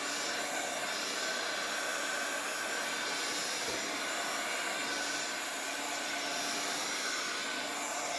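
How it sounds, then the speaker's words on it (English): A steady, loud whooshing roar of a blow dryer running continuously without change, no voices. "I didn't want it to be too long for y'all to listen to this dryer"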